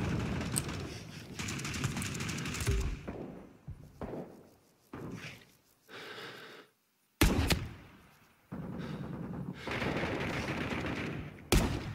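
Rifle fire from a sniper in the Vietnam War shooter Rising Storm 2: Vietnam, sharp loud reports among sustained battlefield gunfire and noise, several distinct shots spread across the stretch, with a voice faintly present.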